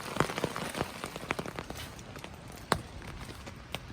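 Rain falls steadily at a wild hammock camp, scattered drops tapping sharply on nearby surfaces over a soft continuous patter, fairly quiet and without talk.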